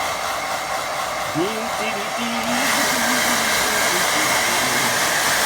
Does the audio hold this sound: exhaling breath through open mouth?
no